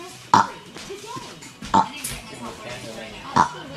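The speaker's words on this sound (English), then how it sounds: "He says he can burp anytime." A boy lets out three short, loud burps spaced across a few seconds in a noisy home kitchen, with dishes clattering faintly and other people talking around him.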